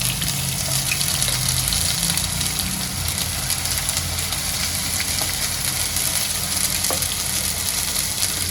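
Masala paste for a Satara-style village mutton curry fries in hot oil, giving a steady, dense sizzle with a low rumbling undertone that runs close and continuous throughout without any talk.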